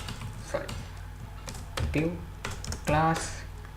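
Typing code on a computer keyboard: quick, close clicks of keys in uneven runs, moderately loud, heard under someone talking steadily throughout.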